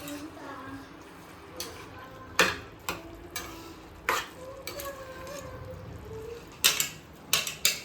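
Carrot halwa stirred in a pan as milk is added and cooked, soft bubbling with intermittent sharp clinks and scrapes of a spoon against the metal, close by.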